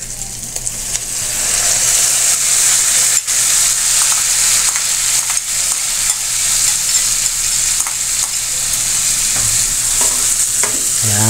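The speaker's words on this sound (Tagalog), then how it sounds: "Lalagay natin, isama natin sa gisa." Unsoftened mung beans sauté in a pan for ginataang langka with pork, a loud continuous sizzle with repeated scraping stir strokes close by and no talking.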